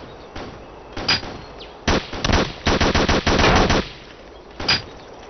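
Bursts of automatic gunfire in the video game Ghost Recon Island Thunder, several loud, rapid volleys in close succession with short gaps, then one final short burst.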